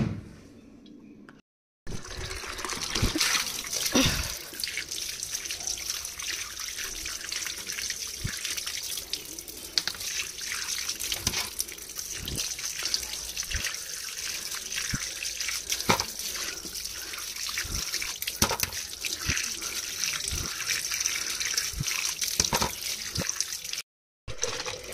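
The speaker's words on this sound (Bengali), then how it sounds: "আলুগুলো ধুয়ে এখন এখানে রেখেছি, জলটা একটু ঝরে যাক।" Water from a kitchen tap runs steadily into a sink while potatoes are washed, a continuous splashing flow broken by small knocks and clatters, close and loud throughout.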